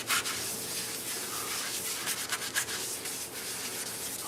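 Soft, steady rubbing of a small rag spreading a shellac-based finish over a turned apple wood bowl, a continuous close-up swishing friction with slight strokes and no talking.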